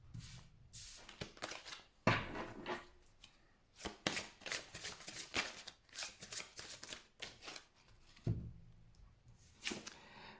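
Tarot cards being shuffled by hand, with repeated crisp riffles and slaps in irregular bursts, close and fairly quiet.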